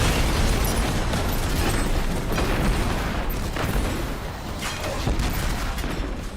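A missile detonates in a tank video game, and a loud, dense rumble of explosions and crackling bursts carries on steadily for several seconds without a break.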